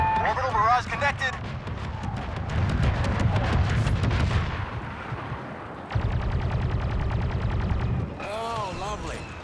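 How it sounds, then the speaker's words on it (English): An orbital barrage in Star Wars Battlefront 2 pounds the battlefield with rapid, dense bursts of explosions and gunfire. Game voices and radio chatter are heard in between the strikes. "Orbital barrage connected."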